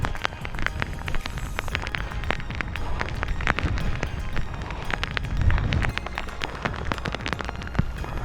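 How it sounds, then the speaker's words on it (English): Heavy rain lashing down outdoors on a dark morning, a steady dense hiss with wind buffeting the microphone and scattered sharp drips and splashes throughout. "there's plenty of rain"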